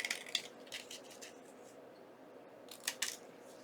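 Scissors trim a paper tag for a junk journal, giving a few short close snips near the start and a pair of crisp cuts near the end, with quiet room tone between.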